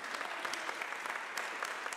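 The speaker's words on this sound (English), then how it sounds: "A round of applause to Vidalia de Hoyos." Audience applause at a music academy event, a steady dense wash of clapping hands that carries through the whole stretch without letup.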